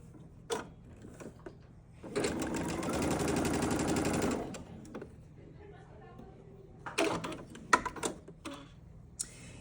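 A sewing machine stitches a small quilt block in one steady burst of rapid needle chatter lasting about two seconds, framed by clicks and handling knocks from the fabric and machine.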